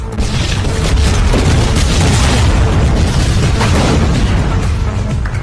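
A bomb detonates inside a factory in a film scene, a sustained loud boom with heavy low rumble and crackling debris filling the whole stretch without letup.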